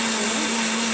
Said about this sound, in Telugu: ఇంకా మిక్సీ పట్టేసి చక్కగా పేస్ట్ అయ్యేటట్టు మొత్తం పల్ప్ లాగా